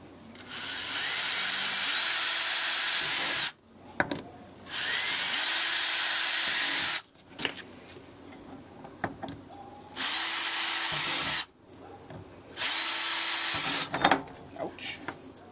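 A power drill whirs in four bursts of about two to three seconds each, pre-drilling holes while assembling a plastic compost tumbler, with quiet pauses and small clicks and handling noises between them.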